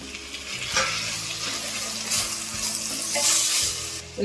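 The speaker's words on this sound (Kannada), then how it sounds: "ಸ್ವಲ್ಪ ಈರುಳ್ಳಿನ ಎಣ್ಣೆಲೆ ಫ್ರೈ ಮಾಡ್ಕೊಂಬೋಣ" Chopped tomatoes frying with onions in oil in a pan for South Indian vegetable sambar, with a steady sizzle throughout and the clatter of a spoon stirring several times close by, with no voices.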